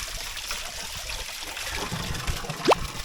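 A small mountain stream trickles steadily on a hiking trail, a soft continuous watery hiss with one brief sharper splash near the end.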